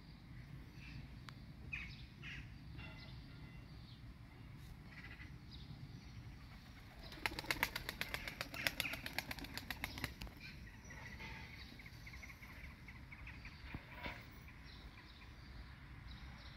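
A hardworking training pigeon's wings flap in a quick, fluttering run of beats for a few seconds midway. It is faint and somewhat distant against quiet outdoor background noise.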